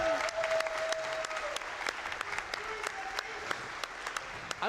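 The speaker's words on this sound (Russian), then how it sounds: "Теперь можно хлопать, да." A crowd at a live speedrun event, Summer Games Done Quick 2018, applauds steadily for several seconds. The dense clapping is punctuated by a few sharp louder claps and a faint whistle-like tone.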